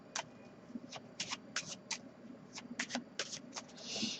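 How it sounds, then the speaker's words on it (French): A deck of playing cards is shuffled by hand close up, with a series of quick crisp riffles and snaps arriving in uneven bursts over a quiet background. "Donc il peut vraiment mélanger les cartes lui-même."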